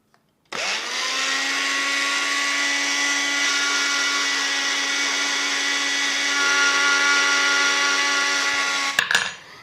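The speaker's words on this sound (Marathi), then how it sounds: "आता हे सगळं आपल्याला मिक्सरला असं फिरवून घ्यायचं आहे" A kitchen mixer grinder whirs loudly and steadily as it blends milk powder, dry ginger and cardamom powder into a tea premix, running for about nine seconds before rattling to a stop, with no talking.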